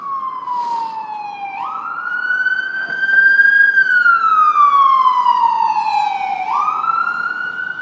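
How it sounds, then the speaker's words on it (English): An ambulance siren wails loud and close in New York City, its tone rising and falling in long sweeps with a sharp jump partway through, steady and unbroken for several seconds with faint traffic beneath. "I hear an ambulance."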